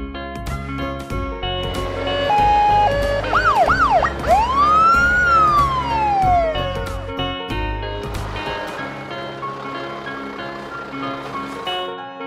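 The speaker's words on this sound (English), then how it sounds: "Police utility." Wailing siren of a police utility vehicle in an animated children's car cartoon, rising and falling in loud sweeping tones over a music bed, then fading out as the backing music continues alone.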